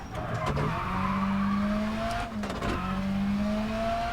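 Rally car in WRC 10 sliding through a corner under handbrake, a steady engine drone with rising pitch sweeps and tire squeal, briefly interrupted mid-slide before powering back up, loud and close.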